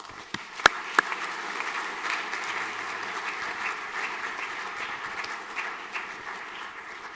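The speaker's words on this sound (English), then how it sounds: "A round of applause, please." A school assembly crowd applauds steadily, a dense wash of clapping with a couple of sharper claps near the start, continuing throughout.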